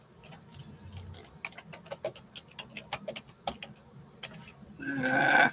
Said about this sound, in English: I'm typing something for somebody.